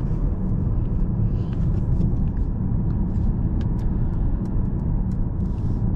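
A 2023 Mercedes C-Class driving at night, heard from inside the cabin as a steady, continuous low road-and-engine rumble with faint higher hiss and no talking.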